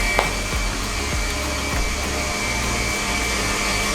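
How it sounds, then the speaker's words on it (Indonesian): Electric mixer beating nastar cake batter until thick, a steady close whirring drone that runs unbroken throughout with no voices. "Nah, ini baru kita mixer sampai dia kental berjejak."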